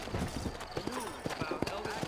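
Sturdy horses walk along with hooves clip-clopping in an uneven rhythm against a 1911 New Albany setting, while voices talk over the steps.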